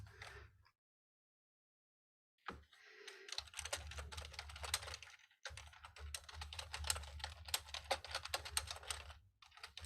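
Typing on a computer keyboard comes in quick, close bursts of key clicks, with a pause of about two seconds near the start and a brief gap midway, then more steady clattering.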